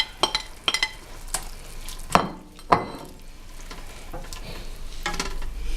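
Veal marsala with mushrooms cooking in a pan, a steady low sizzle beneath a few sharp clinks and scrapes of stirring, close by with no talking.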